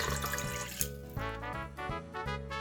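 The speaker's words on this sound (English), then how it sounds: "I'm putting the water in first." Water pouring into a stand mixer bowl, a steady gurgling stream whose pitch rises as it fills, close and continuous with no talking.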